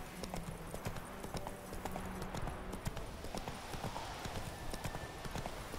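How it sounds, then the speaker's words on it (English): Steady horse hooves clip-clop at a plodding walk in The Witcher 3, a continuous rhythmic patter of hoofbeats over soft game ambience. "on the back of a horse that cannot seem to make it over a stone wall."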